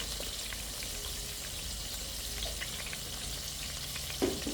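Fenugreek seeds sizzle in hot coconut oil, a steady bright crackle with scattered pops throughout and one sharper clink near the end, no voices.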